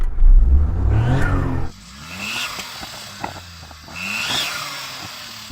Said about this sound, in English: Daniel, go on, rev up your car